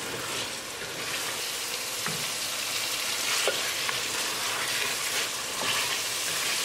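Beef frying in a pan with tomato tadka while being stirred and mixed, a loud continuous sizzle with scattered crackles and occasional scraping, close up and without talk.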